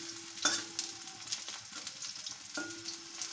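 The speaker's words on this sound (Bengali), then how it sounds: "আর একটু ভাজিয়ে নেব কড়া করে" Jute leaf fritters fry crisp in a pan of oil, a soft continuous sizzle with occasional light clinks and scrapes of a utensil against the pan.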